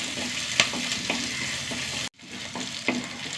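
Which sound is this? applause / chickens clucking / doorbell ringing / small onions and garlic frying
small onions and garlic frying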